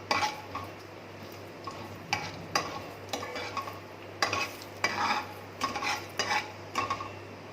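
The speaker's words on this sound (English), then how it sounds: "Now I'm going to add bay leaves and peppercorn. Toss it around for a few minutes." Bay leaves and peppercorns being tossed and stirred in a soup pot, with irregular clinks and scrapes of a utensil against metal over a faint background hum, no talking.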